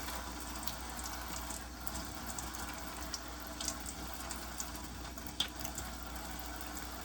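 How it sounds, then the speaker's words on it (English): A tap runs steadily into a sink as cleaned items are rinsed during decontamination, a constant close wash of water with a few faint clinks and no talk. "So now that my items are clean, I'm gonna just rinse them off."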